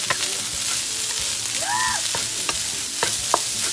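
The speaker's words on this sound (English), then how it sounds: "Then it's just gonna keep frying them like that." Shrimp fried rice sizzles steadily in a pan while a utensil stirs and scrapes through it in scattered clicks and clatters, close and moderately loud, with no talking.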